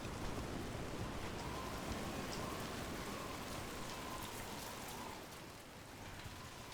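Rain pours down in the fantasy game Dragon Age: The Veilguard, a continuous broadband patter on surfaces that stays steady and close, dipping slightly near the end, with no talking heard.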